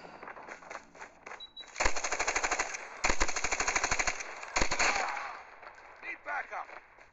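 Rapid bursts of machine gun fire from the mobile shooter Call of Duty Mobile, in three sharp rattling volleys with quieter in-game sounds between them.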